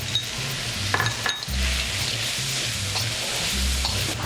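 Precooked potatoes and carrots heating in a frying pan, giving a steady close sizzle with occasional spatula scrapes and light clinks against the pan, alone without talk.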